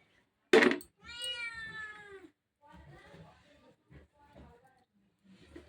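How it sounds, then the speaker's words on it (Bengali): A cat lets out a drawn-out meow up close, followed by softer murmuring sounds from nearby. "ম্যাও ম্যাও করিস না সোনা।"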